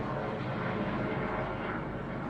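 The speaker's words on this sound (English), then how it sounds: "a plane going by, very loud" Loud airplane passing overhead, a steady broadband engine roar that fills the whole clip with no talk over it.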